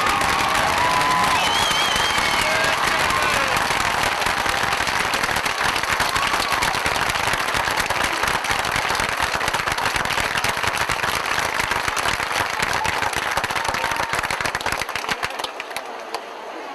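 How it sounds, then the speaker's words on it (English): A crowd at a 2005 high school football game between Crossville and Geraldine gives loud, sustained applause and cheering that rolls on without a break before tapering off at the end. "Thank you for that applause."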